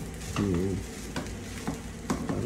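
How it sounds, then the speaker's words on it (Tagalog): Egg stirred into Chowking-style chahan egg fried rice in a hot pan: steady frying sizzle with several scraping stir strokes, close and moderately loud, plus a brief tonal squeak near the start. "lalagyan na ni Mami yung itlog"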